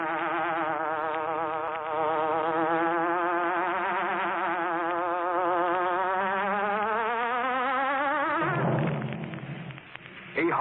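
A buzzing hornet effect opens the Green Hornet old-time radio show: a loud, wavering insect drone that rises and falls in pitch, narrow-band like an old broadcast, ending in a brief rumble.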